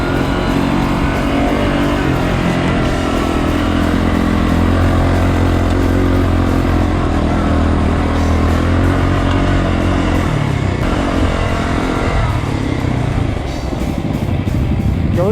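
Vintage Yamaha XT dirt bikes ride off-road, a loud close engine droning and revving continuously with rough clattering as the motorcycle works over uneven terrain.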